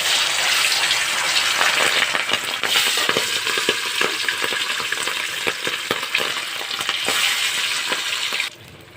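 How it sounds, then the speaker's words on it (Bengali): Fish frying in hot oil for a fish and potato curry, a loud, steady sizzle with bursts of spattering and crackle that drops away abruptly near the end. "মাছটাকে ভেজে নিচ্ছি।"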